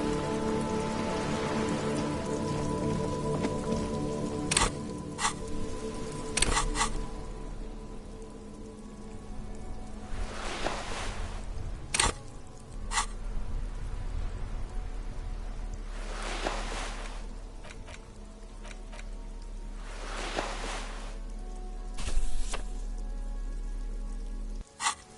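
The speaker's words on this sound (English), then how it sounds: "It's raining again." Rain in the video game Disco Elysium, a steady patter of raindrops hitting surfaces, with occasional louder drips and low ambient hum, continuous and without speech.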